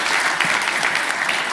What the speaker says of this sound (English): Let's give everyone a round of applause from our arts and culture panel.